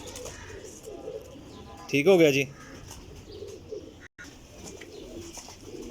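Teddy pigeons give one brief, clear, rolling coo near the middle, close by, with a voice talking quietly around it.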